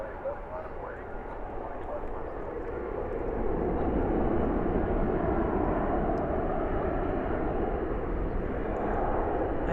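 An airliner in oneworld livery, arrived from Venice, taxiing into its gate at Terminal D at DFW airport at night, its engines a broad, steady roar that swells louder midway and holds, with a person talking over it.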